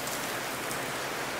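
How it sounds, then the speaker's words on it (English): Heavy rain from Typhoon Karding in the Philippines falling directly over a house at night, a dense, steady hiss of downpour with no breaks. "the rain's actually picked up"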